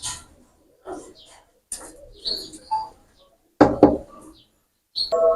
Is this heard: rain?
no